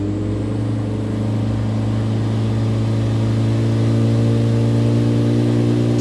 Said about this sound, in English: You can definitely hear the exhaust in a big way.